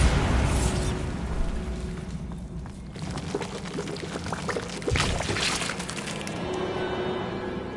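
A Bombarda spell goes off in Hogwarts Legacy, a loud burst of crashing, crackling debris, with rubble breaking and scattering for several seconds before it trails into rumbling.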